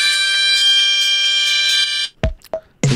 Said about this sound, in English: I think this is his alarm to go.